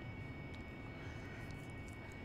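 Steady whine and rumble of an AV-8B Harrier jet engine in the DCS flight simulator as the aircraft taxis on a Syria map at night. A constant, even drone with no voices.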